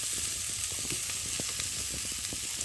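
Cabbage added to a pan of prawns, peas and potatoes cooked with ginger-cumin paste, a constant hissing fry with scattered small crackles, steady and moderately quiet, no talking.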